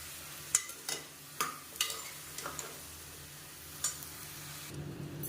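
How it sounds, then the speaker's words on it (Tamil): Vegetables sautéed in oil for a rustic Tamil kootanchoru, with a soft steady sizzle under scattered sharp scrapes and taps of a spoon stirring the pan, fairly quiet and close. "இதையும் சேர்த்து நல்லா வதக்கி விட்டுக்கணும்."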